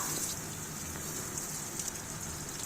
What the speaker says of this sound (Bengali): এখন এই আলুটাকে কিছুক্ষণ তেলে ভেজে নেব